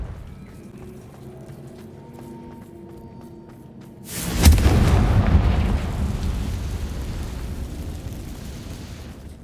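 In Hogwarts Legacy, a Confringo spell detonates with a sudden loud burst midway through, followed by a long roaring, rumbling decay, after a quiet stretch with faint ambience.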